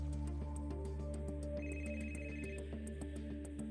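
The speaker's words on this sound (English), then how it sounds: "woke up to the sound of his phone ringing" A phone ringtone plays as a loud, repeating electronic melody of bright tones with steady rhythmic pulses, running continuously throughout with no talking.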